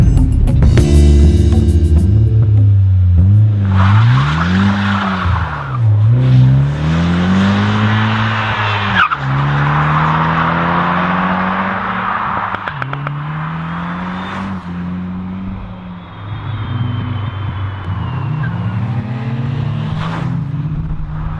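A 2021 Morgan Plus Four sports car with a turbocharged 255 bhp BMW engine pulls hard through the gears, its exhaust note rising and dropping with each upshift, loud and close with no talking.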